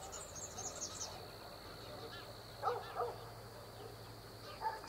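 A few short dog barks ring out in the distance against a quiet evening backdrop of birdsong and insects.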